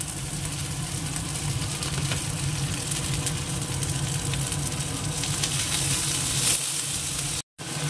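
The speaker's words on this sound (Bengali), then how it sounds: "এবার দিয়ে দেবো পেঁয়াজ কুচো, আর এই 3টে কাঁচা লঙ্কাও দিয়ে দিলাম।" Chopped onion and three green chillies frying in an oil-filled pan, a steady loud broadband sizzle running throughout with faint stirring scrapes and a brief dropout near the end, no talking.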